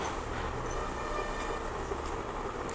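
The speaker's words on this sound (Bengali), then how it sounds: "এই যে ট্রেনের ইঞ্জিনটা, এটা আপনার সামনের দিকে যাচ্ছে" A train locomotive moves at Kamlapur railway station with a low, steady rumble that stays fairly quiet and even for a few seconds. No one speaks.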